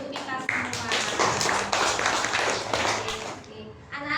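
A primary school class of children claps together in a classroom, a dense burst of hand claps lasting several seconds, close and fairly loud, easing near the end.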